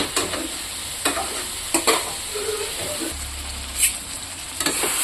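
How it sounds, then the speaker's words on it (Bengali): Tangra fish and potatoes fry in a pan with a constant close sizzle, broken by several sharp clacks and scrapes of stirring against the pan. "ট্যাংরা মাছ আর আলুটা ভালো করে আরও ভাজা করে নেব।"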